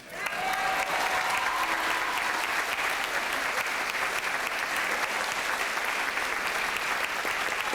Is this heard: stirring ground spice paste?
no